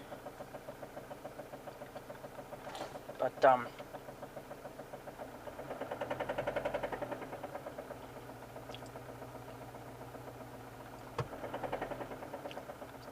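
A John Deere X724 lawn tractor engine runs after a cold start, idling with a steady rhythmic chugging pulse that swells slightly partway through. Someone talks briefly over it.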